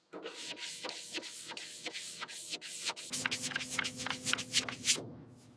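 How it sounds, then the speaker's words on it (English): Block sanding body filler on the panels of a 1970 Chevelle SS during restoration: steady, rhythmic back-and-forth rasping strokes, close and fairly loud, growing slightly harsher in the second half. "Block sanding for hours."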